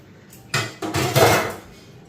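Metal pots and dishes clatter and scrape as they are scrubbed and washed, a few close, loud knocks and rattles in quick succession with no talking.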